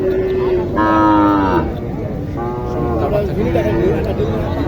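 Cattle give loud, drawn-out moos, one after another, at a rural cattle market in Naogaon, Bangladesh, selling Sahiwal heifers, close and clear over a steady background of people talking.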